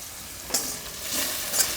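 Okra (bhindi) being stirred as it fries in hot oil: a steady sizzle with a couple of scraping stirs of a spoon against the pan, close and moderately loud, no voices.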